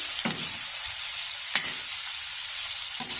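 Onions sauté in a pan for a mung bean stew, with a continuous bright frying sizzle broken by three spatula scrapes, roughly one every second and a half, close and fairly loud.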